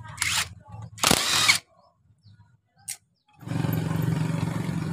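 On a Honda Supra X motorcycle engine, a power tool zips out the starter gear retaining plate bolt in two short bursts, then a small blip, then a longer steady whir after a brief quiet pause.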